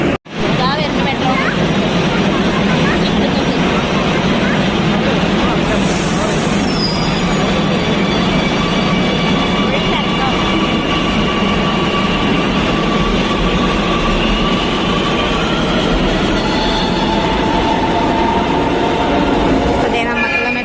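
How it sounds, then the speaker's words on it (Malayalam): A metro train pulling into a station: a loud, continuous rumble of wheels on rail with sustained squealing tones as it arrives, close by and filling the whole stretch. "ഇതാ വരുന്ന മെട്രോ."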